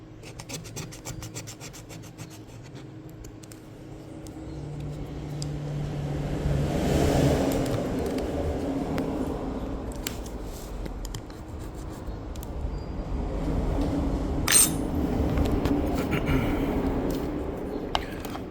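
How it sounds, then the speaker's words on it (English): Old adhesive tape is scraped off a Samsung Galaxy Tab A9 with a tool, making a continuous close rasping and rubbing that swells and fades, with a few sharper clicks near the end. "So you need to remove the excess old adhesive tape"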